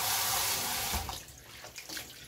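Tap water runs steadily into a sink while bean sprouts are washed, a close, even rush that thins out after about a second into lighter splashing.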